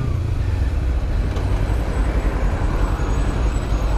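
Dense city traffic in Sorocaba with many cars, buses and trucks at traffic lights near a shopping centre, a loud continuous low rumble of engines and road noise heard from close by.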